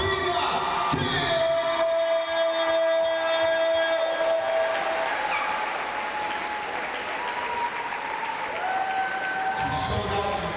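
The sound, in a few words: applause for the league MVP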